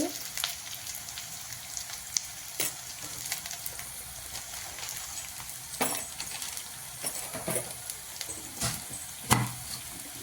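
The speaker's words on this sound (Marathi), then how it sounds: "हे बघा कांदा हिरवी मिरची शेंगदाणे चांगले परतून झाले त्यात थोडीशी हळद टाकू" Onion, green chili and peanuts sizzle in a pan with turmeric while being stirred, giving a soft steady fry with scattered clinks and scrapes of the spoon against the pan.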